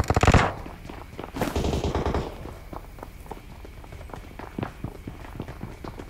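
Rapid automatic gunfire from a video game rattles in bursts, followed by scattered single shots and footstep-like taps at moderate distance. A short loud blast opens the sequence.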